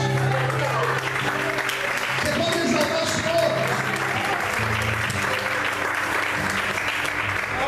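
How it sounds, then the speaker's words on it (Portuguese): A church congregation applauding, sustained loud clapping filling the room while a preacher speaks over it. "Você pode aplaudir a Deus"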